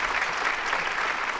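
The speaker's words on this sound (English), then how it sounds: "Let's give her a big round of applause." A studio audience at a firearms talk show applauds, a dense and even wash of clapping that holds steady throughout.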